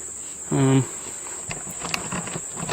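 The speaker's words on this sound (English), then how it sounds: "There's a big old hornet." A big hornet buzzes loudly past for a fraction of a second outdoors, followed by faint rustling against a constant high insect drone.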